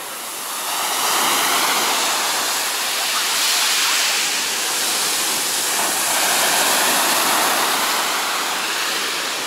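Rough sea surf roars steadily and close at Cleopatra Beach in Alanya, Turkey, a dense wash of breaking waves with slight swells in loudness and no talking.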